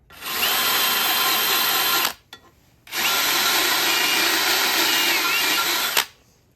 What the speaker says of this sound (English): I'll come in here and kind of angle it and just chamfer this hole a little bit to smooth that edge out